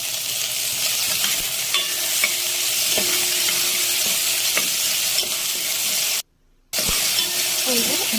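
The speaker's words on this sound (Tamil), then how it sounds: "ஒரு சின்ன தக்காளி அதையும் கட் பண்ணி சேர்த்து வதக்கிக்கணும்." Potato and small chopped tomato sautéing in oil for a garlic-onion kuzhambu, a loud continuous hiss with faint stirring knocks and a brief dropout near the end.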